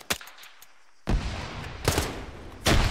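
Arma 3 combat during an island assault: a sharp gunshot, a pause, then loud bursts of machine gun fire rattling in quick succession, close and punchy.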